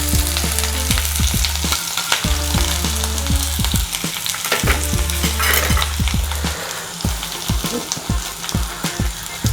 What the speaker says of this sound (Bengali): এবার আমরা এর মধ্যে আমাদের পেঁয়াজটা দিয়ে দেবো।